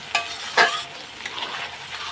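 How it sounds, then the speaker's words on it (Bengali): Spices being stir-fried in a pan while cooking a Bengali chicken dish, with a couple of brief scraping stirs over a soft, steady sizzle. "দিয়ে দিলাম মশলাগুলো। এখন আমি কষিয়ে নেব।"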